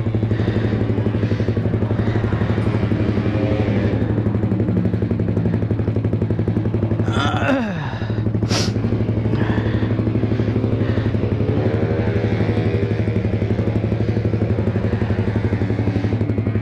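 A Yamaha MX King motorcycle runs steadily on a test ride, its engine droning loud and close throughout, with a brief gear change or revving shift midway and wind rush over the ride.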